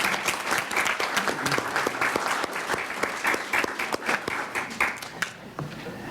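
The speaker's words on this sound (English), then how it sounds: "let's all give her a round of applause" People at a school board meeting applaud, a moderate round of clapping from a small room that tapers off near the end.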